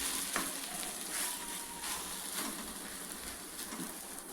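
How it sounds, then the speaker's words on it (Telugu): Cauliflower and egg sizzle and fry steadily in a pan, a continuous close crackle with occasional louder pops and stirring scrapes, no voices. "చూసారా, ఇంకొక 2 మినిట్స్ దీన్ని ఫ్రై చేసామనుకోండి మనకి రెడీ అయిపోతుంది."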